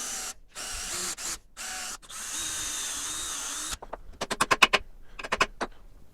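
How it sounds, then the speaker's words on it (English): A power drill boring a screw hole in wood, first in several sustained whirring runs with short pauses, then a quick series of sharp bursts, close and loud with no talking. "we're going to drill another hole to receive the screw"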